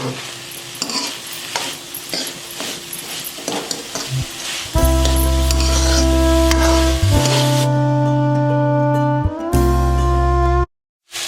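Vegetables being stir-fried in a pan, a crackling sizzle with metal spoon scrapes, then a loud steady hum takes over for several seconds and the clip cuts out abruptly near the end.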